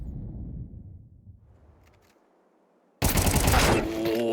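Counter-Strike 2 firefight on the Anubis map in a PGL tournament match, a sudden loud burst of rapid gunfire after a quiet stretch, dense and continuous to the end.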